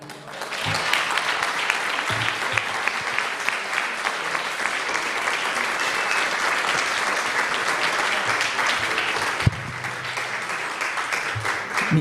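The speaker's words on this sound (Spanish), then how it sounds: "Un aplauso." Sustained audience applause at a women architects' conference fills the room steadily for about twelve seconds, dense and even, with a brief sharp bump near the end before it carries on slightly softer.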